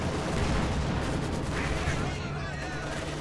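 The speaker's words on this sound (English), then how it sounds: "the King Tiger taking fire there from IS-2's field guns and whatnot" Dense rumbling field-gun and artillery fire from Soviet IS-2 tanks pounding a King Tiger in the strategy game Company of Heroes 2, a continuous loud barrage with a commentator talking over the battle noise.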